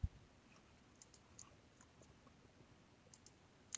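Faint, isolated computer mouse clicks sound while working in Autodesk Inventor 2014 software, a few scattered taps over a quiet background hiss.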